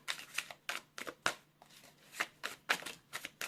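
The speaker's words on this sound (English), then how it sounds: "Let's shuffle some more cards." A deck of tarot cards is shuffled close up in quiet, crisp riffling bursts of papery flicks, several short shuffles in an uneven rhythm with brief pauses.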